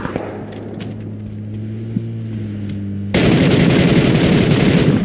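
In the battle royale game PUBG, a steady electronic hum with a few faint taps gives way to a sudden, loud burst of rapid automatic gunfire that carries on densely to the end.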